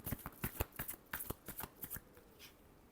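Tarot cards shuffled by hand in a quick run of crisp, riffling flicks, close and fairly quiet, tapering off toward the end with no talking.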